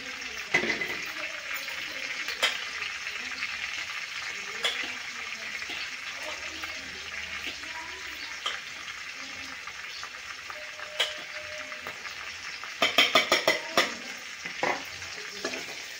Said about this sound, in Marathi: मिरची छान तळून घ्यायची आहे आपल्याला ही.